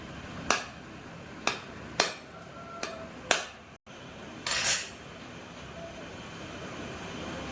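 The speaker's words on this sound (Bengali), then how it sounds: "সবার প্রথমে নারিয়েলগুলো আমি ফুটিয়ে দেব।" Coconuts being cracked open in a home kitchen to make a sweet for Eid: four sharp knocks in quick succession, then a louder fifth crack followed by a short rough burst, all fairly close.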